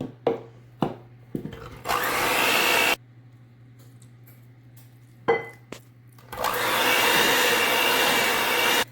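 An electric mixer blends whoopie pie batter with cocoa mixture, flour and milk, running in two loud, sustained whirring bursts that start abruptly, separated by short knocks and a quiet pause with a low hum.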